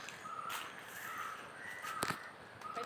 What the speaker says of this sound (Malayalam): കിളിയുണ്ട്.